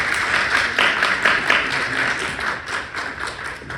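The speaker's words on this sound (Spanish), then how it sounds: "Un aplauso" Steady applause from an audience at the close of an online lexicography workshop, dense continuous clapping at moderate level throughout with no speech over it.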